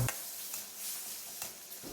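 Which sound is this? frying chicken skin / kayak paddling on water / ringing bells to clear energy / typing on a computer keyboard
frying chicken skin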